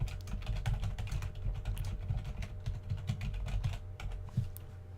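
Rapid keystrokes on a computer keyboard while typing a short file-lock message, a quick irregular patter of clicks that is close and fairly soft, with no voices.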